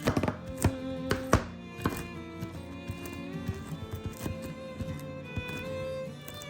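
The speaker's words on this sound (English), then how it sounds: "we'll start by roughly chopping 1 1/4 cups of pecans." A knife thuds repeatedly on a cutting board, roughly chopping pecans in an uneven rhythm, with louder strikes at first and lighter chops after.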